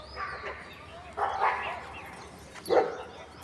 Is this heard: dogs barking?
yes